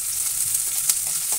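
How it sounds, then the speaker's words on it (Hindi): Onion frying in hot oil with ginger and garlic gives a dense, close hiss of sizzling, steady throughout with a couple of faint stirring clicks. "अदरक लहसुन ये प्याज के साथ भी भूनता रहेगा"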